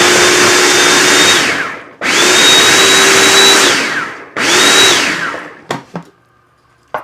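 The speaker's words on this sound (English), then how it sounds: "So I have a food processor, and I just it's going to make a noise, so I'm just going to emulsify these." A food processor runs in three loud whirring bursts as it purees green tomatoes for chutney, each burst spinning up and down, followed by a few short clacks as it stops.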